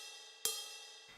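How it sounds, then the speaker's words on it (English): Ride cymbal sample for a West Coast hip-hop beat: a single bright, shimmering hit that rings and decays, with the start of another strike at the very end, heard alone. "And then next we went in and we found a little ride sound"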